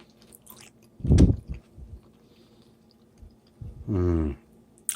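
Cooked sugar snap peas from a teriyaki pork and black bean stir fry are bitten and chewed up close, with a loud crunchy bite followed by softer chewing. A voiced hum or murmur comes near the end.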